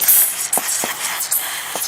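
Lubricant sprays in short hissing bursts onto the pin of a post hole auger, close and loud, with a few brief pauses between the spurts.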